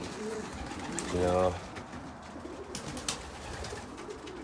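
Racing pigeons coo in a young bird cabin, with one clear, rolling coo rising above a steady background of birds, while someone speaks briefly nearby.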